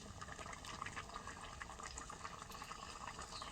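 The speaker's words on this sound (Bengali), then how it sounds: "লাউ পাতা ভালো করে সিদ্ধ করে নিচ্ছি" Gourd leaves boil in a pot over a wood fire, making a faint, continuous bubbling burble that stays even throughout.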